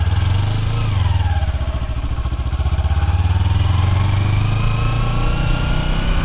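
A friend's 650 motorcycle engine drones loud and steady while being ridden, a continuous low rumble with slight surges in pitch across the whole stretch, plus wind noise.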